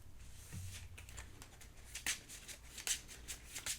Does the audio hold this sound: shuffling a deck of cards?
yes